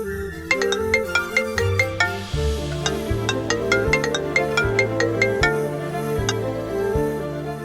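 A melodic phone ringtone plays loud and close, its repeating chiming tune looping steadily over a plucked rhythmic backing during a television serial scene.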